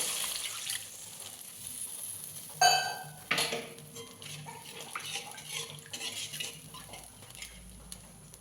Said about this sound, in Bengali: আর এখানে আমি গুঁড়ো দুধ গুলিয়ে রেখেছি, এই গোলানো দুধটা দিয়ে দেবো